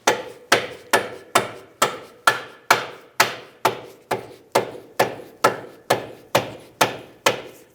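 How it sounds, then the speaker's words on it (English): A rubber mallet strikes a lower control arm on a 2003-2007 Nissan Murano to press in a ball joint, sixteen loud, evenly spaced dull thuds close up, about two per second, with no talking. "You can use a rubber mallet to press it up"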